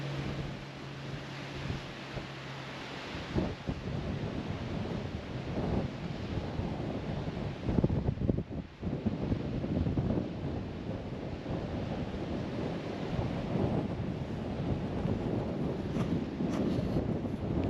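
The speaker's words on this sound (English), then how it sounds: "it is definitely a little bit on the windy side down here right now." Strong, gusty wind buffets the microphone by the water on Vancouver Island, a continuous loud roar with surging gusts and a faint wash of waves underneath.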